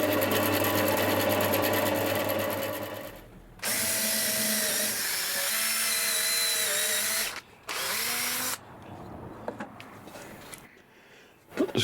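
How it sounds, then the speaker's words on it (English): A power drill drives screws into a thick piece of wood for a squirrel feeder, with loud, sustained whirring runs that rise and fall in pitch, separated by brief pauses and a shorter burst near the end. "Put the screws back in."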